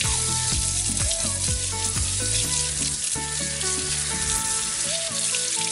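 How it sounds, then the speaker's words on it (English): Garlicky chicken Alfredo sauce simmers and boils in a pan, giving a steady, loud, continuous bubbling sizzle throughout, with background music playing underneath. "Simmering and boiling, and you have nothing to do."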